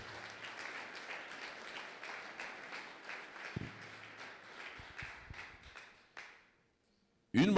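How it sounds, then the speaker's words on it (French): A church congregation at a Sunday thanksgiving and praise service applauds: steady, faint, distant clapping that fades away, with a thump partway through and a sudden loud noise at the very end. "Est-ce qu'on peut acclamer très fort pour la gloire de Jésus?"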